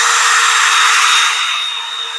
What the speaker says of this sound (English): So we're going to take the drill, and right here,